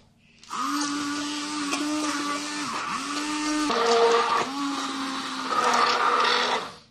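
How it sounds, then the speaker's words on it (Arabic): An electric kitchen mixer whirs as it blends bananas with yogurt for an ice cream cake. The motor hums steadily for about six seconds, its pitch dipping briefly several times as it catches the fruit. "وصافي هنجيب دابا الميكسور ديالي وهنطحنو في هذا"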